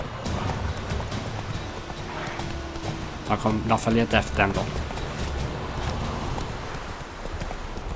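Horse hooves clip-clop at a gallop in The Witcher 3: Wild Hunt, a steady rhythmic thudding that runs throughout beneath someone talking.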